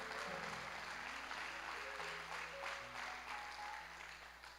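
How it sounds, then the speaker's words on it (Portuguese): Congregation applauding in church, a steady wash of clapping with music or organ tones sustained underneath, holding level before easing off slightly at the end. "Aleluia, aplauda aí o Senhor"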